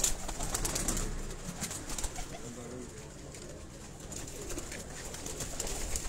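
Breeder pigeons at a loft in Sialkot coo softly and steadily throughout, with low rumbling calls under a busy background and occasional faint bird sounds.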